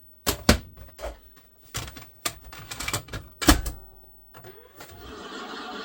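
An Akai VS5-EK VHS video recorder from around 1981 takes in a cassette with a run of clunks and mechanical clicks, followed by a steady whirring hum from the tape transport as it threads and starts to play.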